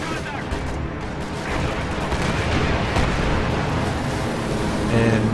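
P-47 strafing rocket attack in Company of Heroes 2, a dense continuous barrage of blasts and gunfire rumbling loudly throughout, with battlefield noise building toward the end.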